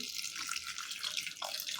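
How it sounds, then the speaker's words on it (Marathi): Faint running water splashes into a pot of orange peels, a brief steady trickle with a light bubbling texture. "आता याच्यामध्ये साली बुडतील एवढं पाणी ॲड करायचं आहे"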